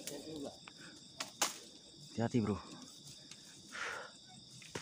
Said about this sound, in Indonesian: Ini jangkrik.